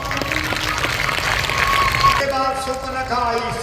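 Audience clapping during a Ram Katha religious discourse in Ratu, Ranchi, Jharkhand, a dense burst of applause filling the first couple of seconds before fading as a voice resumes speaking.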